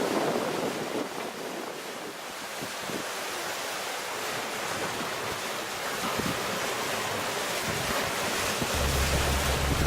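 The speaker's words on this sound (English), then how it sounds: "Although the waves were rolling" Ocean waves roll around a boat heading toward Key West, a continuous broad rushing wash mixed with heavy wind buffeting the microphone and a low engine hum near the end, with no voices.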